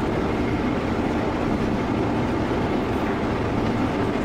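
An Indian express train, the Golconda Express between Warangal and Kazipet, running in a train simulator game, heard from the cab as a dense, steady low rumble that stays loud and constant, with no talk.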